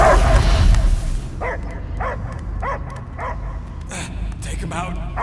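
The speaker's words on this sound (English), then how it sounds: "I hear only barking." Dog barking in the video game Guardians of the Galaxy: a loud opening burst, then a steady series of sharp, evenly spaced barks and yips over a continuous low game rumble.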